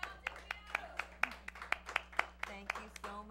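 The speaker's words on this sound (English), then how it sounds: "Yeah, you can applaud." Scattered audience clapping at a live evening show, a loose run of individual claps, moderately close, with a voice talking over it.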